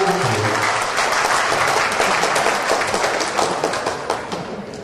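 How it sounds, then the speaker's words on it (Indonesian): Sustained applause from an audience at a business event in Indonesia, a dense continuous patter of many hands clapping throughout, loud and steady with faint speech underneath before it tapers slightly at the end. "Tepuk tangan."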